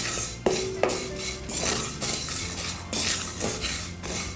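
Vermicelli is roasted in ghee in a pan and stirred with a metal utensil, giving repeated scraping clinks and light taps against the pan at a moderate, uneven pace, with no talk.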